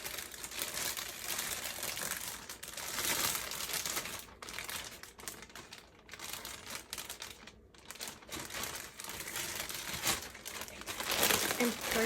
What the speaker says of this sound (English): Press the brisket into a large plastic bag.